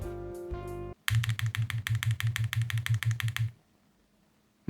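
Rapid typing on a QK65 mechanical keyboard: a burst of crisp clacks with a faint metallic ping on each press, preceded by a short tonal hum, then quiet.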